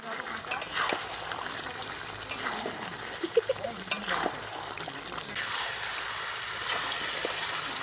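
Chicken pieces cooked with yogurt and sugar are stirred and fried in a pan: a steady sizzle with scattered scraping and clinking of the spoon, close up, and a voice speaking over it.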